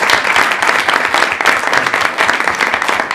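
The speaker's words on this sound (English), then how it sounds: "So if we could have a good round of applause for all of our fall All-Stars." Loud, dense applause from a school committee meeting audience honoring fall All-Stars, a continuous wash of many hands clapping close by, unbroken for the whole stretch.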